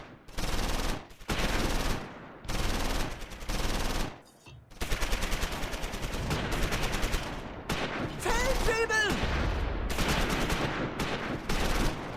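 Close Combat 4 battle near the Siegfried Line, December 1944: sustained bursts of machine-gun fire and rifle shots rattle in long loud volleys, broken by brief pauses and a sharper crackling flurry near the end.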